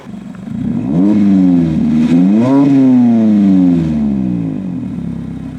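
A 1200+ hp three-rotor 20B Mazda RX-7 on a Goodwin Racing exhaust revs loudly nearby, its rising and falling engine note sweeping up and down through several throttle blips, no talk over it.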